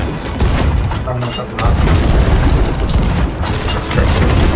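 Ship cannons fire during a naval battle in the pirate game Sea of Thieves, a loud dense barrage of booms and rumbling blasts, one after another.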